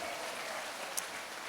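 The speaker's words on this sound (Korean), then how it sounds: "다시 한번 큰 박수로 주님께 영광." A congregation at a prayer meeting claps, a faint, even patter of applause heard from a distance with one brief sharp click in the middle.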